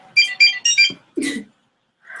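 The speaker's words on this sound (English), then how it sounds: "It's my phone." A mobile phone ringtone plays a bright, rhythmic melody of four quick tonal bursts, loud and close, followed by a short noisy sound and a fading tone.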